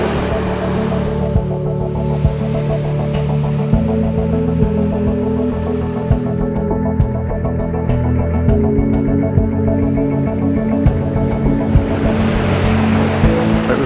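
Ocean surf rolling onto Sam Roi Yot Beach in Thailand, a steady broad wash of breaking waves with a low rumble and brief wind buffeting on the microphone, continuous throughout.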